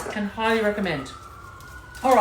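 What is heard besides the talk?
emergency vehicle sirens outside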